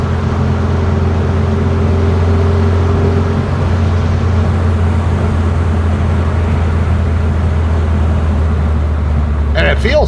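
A 1968 VW Type 3 Squareback with an 1835cc engine drones steadily from inside the car while driving, a low constant hum, and a voice talks over it.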